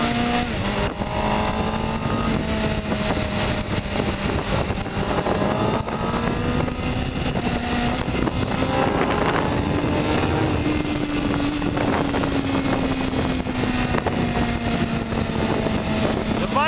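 Big four-cylinder engine of a 2009 MV Agusta F4 1078 RR motorcycle while riding, loud and close, revs rising and falling through gear changes with steady wind noise.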